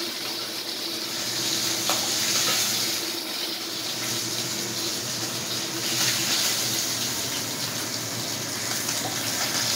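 Small tangra fish fry in very hot oil, producing a loud, dense, continuous sizzle that swells and eases slightly over about ten seconds, with no one speaking.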